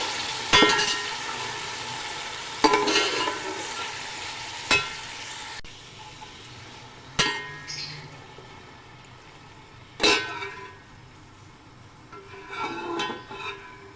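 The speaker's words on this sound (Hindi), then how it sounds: "झींगे को हमने बहुत अच्छी तरह जो है फ्राई करना है" A steady crackling sizzle of prawns frying in hot oil, broken by occasional clinks and scrapes of a utensil stirring the pan.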